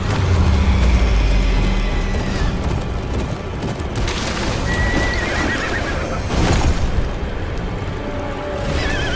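Horses neigh and whinny loudly over thudding hooves in a Game of Thrones video game, with booming, chaotic battle noise in the background.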